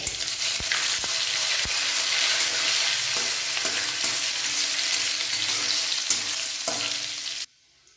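Spice tempering with chopped ginger sizzling in hot oil while being stirred, a steady bright crackling sizzle with occasional utensil taps, close up, cutting off abruptly near the end.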